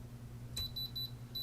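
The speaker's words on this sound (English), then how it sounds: "all the LEDs are gonna light up and it's going to start beeping at us" A gemstone tester gives a rapid series of high electronic beeps, starting suddenly after a brief click and repeating steadily over a low, constant hum.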